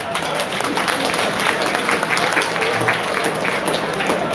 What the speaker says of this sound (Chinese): 鼓掌一下吧，大家。